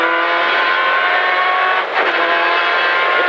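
Citroën rally car at the Rallye Épernay Vins de Champagne 2019, heard from inside the cockpit as a loud, steady engine drone with a brief dip in pitch as it brakes toward a chicane.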